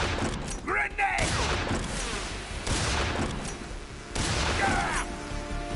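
A grenade blast in the stealth game Metal Gear Solid 3: Snake Eater, a loud burst followed by crashing and gunfire amid shouting voices, with a second heavy burst near the end.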